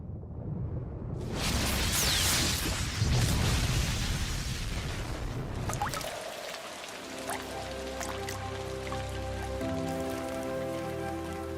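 Heavy rain pours down during a thunderstorm, a loud dense hiss for about six seconds before it drops away and sustained tonal sounds take over.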